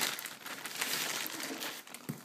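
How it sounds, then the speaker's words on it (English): Crinkling of a plastic baggie holding baking soda during home baking, a close, continuous rustle of handled plastic with a brief soft thump near the end. "So I keep my baking soda in this baggie right here."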